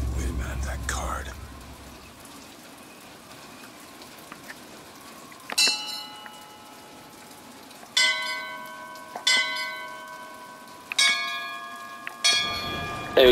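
A series of bells rung in the Bioshock Infinite video game, sounding as sharp metallic strikes with long ringing tones at irregular intervals, five or six in all, over a quiet rainy ambience with faint voices.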